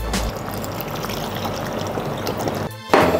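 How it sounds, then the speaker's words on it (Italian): A litre of water pours into a cooking pot of browned potatoes and tomatoes for Neapolitan pasta e patate, a steady splashing trickle lasting a few seconds before a brief pause and a final splash. "poi aggiungiamo un litro di acqua."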